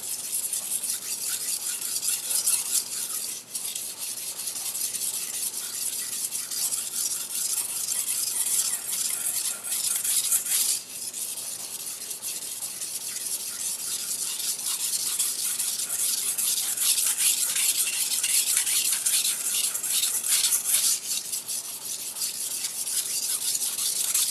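Steady scraping of a double-bevel gyuto kitchen knife being sharpened on a whetstone, continuous rhythmic strokes throughout, fairly close and loud with no speech.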